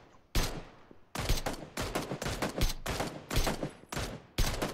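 Repeated gunfire at a jeep in a video game, a rapid series of sharp, loud bursts in irregular volleys with brief gaps between them.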